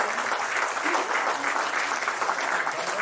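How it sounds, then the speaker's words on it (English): Steady, dense applause from an audience at a book release ceremony during a teachers' awards celebration, continuous and even throughout with no pauses. "So let's have a huge round of applause"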